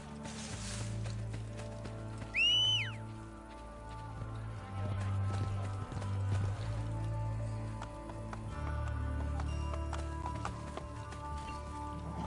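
Rhythmic hoofbeats of a galloping horse in Assassin's Creed Brotherhood run under steady game music, with a brief high whistling chirp early on.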